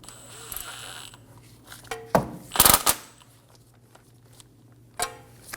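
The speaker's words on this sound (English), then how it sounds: "Snug the bolt down." A ratchet snugs down the ABS sensor bolt on a steering knuckle of a 2008-2015 Scion xB. Close, crisp bursts of clicking come in a cluster, then a pause, then one more short burst.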